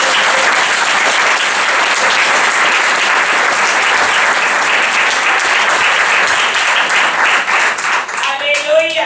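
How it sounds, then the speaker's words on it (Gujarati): A church congregation breaks into sustained, dense applause during a worship service, a loud, even wash of many hands clapping together throughout, thinning slightly at the very end. "પિતા પુત્ર પવિત્ર આત્માને તાળીઓથી વધારી લઈએ છીએ"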